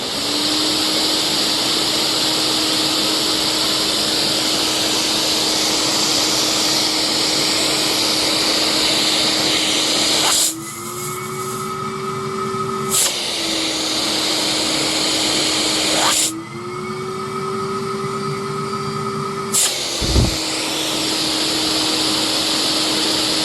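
A TriStar CXL vacuum cleaner runs steadily with all filters in during a suction test at the hose end, its motor pitch rising twice as the hose is sealed for a few seconds, then dropping back, loud and close.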